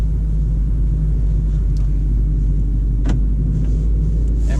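A 2020 Honda CR-V compact SUV cruises on a road, heard from inside as a steady, loud low rumble of engine and road noise with a few faint passing swishes.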